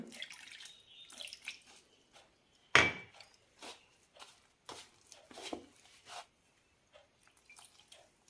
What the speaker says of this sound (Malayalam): ഇനി ഇതിലേക്ക് ചെറു ചൂടുവെള്ളം ഒഴിച്ച് കുഴച്ചെടുക്കാം